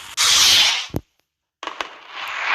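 Fireworks rockets in the Roblox game Brookhaven: loud hissing whooshes with a sharp pop, a brief silence, then another crackling whoosh, close and alone.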